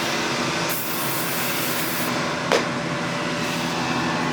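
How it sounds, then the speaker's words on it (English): A continuous hissing spray of WD-40 onto a rag runs for a few seconds, steady and close, with a short sharper burst near the end. "So spray your rag."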